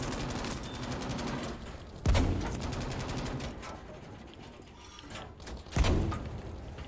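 Gunfire in the World War II shooter Battlefield 5, with bursts of automatic fire under two heavy booming blasts, distant rumble and clatter between, and no talk.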